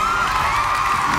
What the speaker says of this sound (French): on va vous demander de les applaudir encore une fois